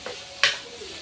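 Chicken broth poured into a hot pan for a Filipino home dish, making a single sharp hissing burst that quickly fades into a low simmer over a soft background hum.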